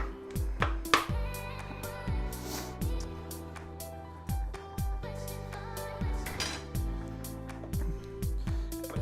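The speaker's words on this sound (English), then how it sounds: "I always just slice cheese like this" Cheese being sliced thinly with a knife on a board, a steady run of short, sharp cuts and taps, fairly close, with a low tonal hum from the kitchen underneath.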